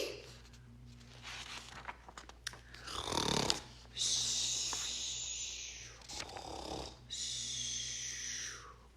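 A voice imitates a sleeping pigeon puppet's snoring, with loud, drawn-out snores and breathy snorts at close range, repeating three times with short quiet gaps between them.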